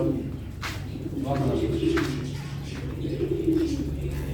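Soft, low coos from purebred breeding pigeons in an Ankara loft repeat close by amid a murmuring flock, with a voice speaking faintly in the background.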